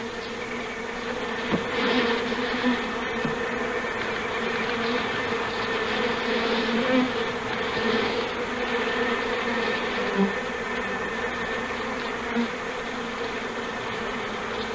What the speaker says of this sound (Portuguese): Durante os meses de primavera em que as abelhas migram em busca de locais para se fixarem, enxames de forma indefinida como este são comuns.